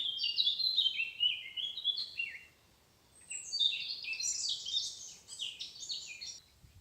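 Small birds chirp and sing in bright, rapid trills, fairly close, with a brief lull midway before the song resumes against a quiet background.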